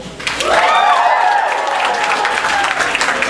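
An audience at a stand-up comedy show breaks into loud clapping and applause, with cheers and whoops rising over the crowd, sustained for several seconds.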